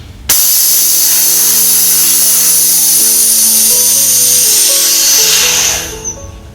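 Compressed air hisses steadily out of an air compressor tank's pressure relief valve, starting abruptly and staying loud and continuous for several seconds before tapering off, with a faint tonal hum beneath.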